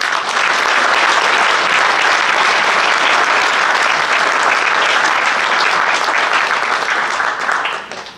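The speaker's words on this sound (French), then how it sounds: "nous pouvons les applaudir" Audience applause at a town event hosted by the mayor of Hombourg-Haut, a dense, steady roar of many clapping hands that holds loud and even for about seven seconds before tapering off at the end.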